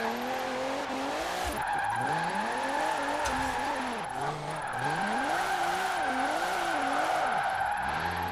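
A retro Alfa Romeo drifting sideways in Forza Horizon 4, the engine note rising and falling in sweeping waves as the throttle is worked, over constant tire squeal and road roar.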